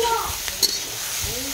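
Bitter gourd frying in oil gives a steady close sizzle, with a brief tap of a utensil and faint voice sounds in the background.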